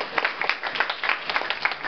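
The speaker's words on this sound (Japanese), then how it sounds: "もう少しだけ拍手をいただければもう一曲出るかもしれません。" An audience claps at a lunchtime piano mini concert, a brisk, fairly loud patter of individual hands with clear separate claps in an uneven rhythm.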